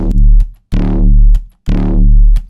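A booming hip-hop kick drum with a clean sub-bass tail, played without distortion, hits three times in a loud, evenly spaced pattern, each long low note decaying before the next.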